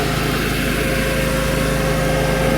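A Chinese mini skid steer's small engine runs steadily and loudly at close range, a continuous high-pitched drone with a faint hum beneath it, while the machine strips up big roots during work on a gravel driveway.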